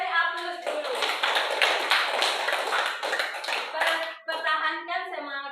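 Students in a classroom applaud, a dense round of clapping lasting several seconds and briefly dipping near the end, with a voice carrying over it.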